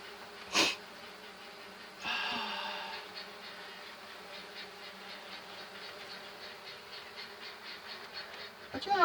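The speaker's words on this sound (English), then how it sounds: "Some good looking bees." Honey bees hum steadily and close by during a swarm hive inspection, a dense continuous drone with a few louder bursts as bees fly past.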